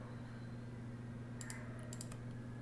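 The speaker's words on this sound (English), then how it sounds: "I'm gonna type in." A few soft keyboard clicks in two brief clusters over a steady low electrical hum, quiet and close with no voices.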